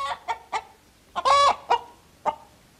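A small hen clucks in a series of short, separated calls, with one longer, louder cackle in the middle, close and clear with no talk over it.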